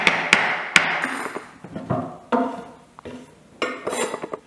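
Knife roughly chopping vegetables on a board while preparing a ferment: sharp close knocks and taps in an uneven run, with a few clattering hits and brief gaps.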